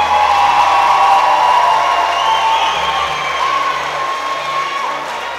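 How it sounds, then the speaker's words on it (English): A crowd at a boxing event applauds and cheers after the bout, a continuous loud wash of clapping mixed with scattered whoops and shouts. "can you please put your hands together for a great bout of boxing now?"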